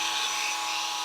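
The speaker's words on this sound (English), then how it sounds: "We could use a Dremel." Small Dremel rotary tool running at high speed, used to trim an old 30-pin SIMM memory socket, giving a steady, loud, high-pitched whine that holds for the full second with no talk.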